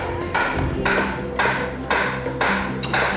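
Hammering at a construction site where small houses are being built, heard as loud, regular blows spaced about half a second apart, each with a ringing metallic tail, with no talk over them.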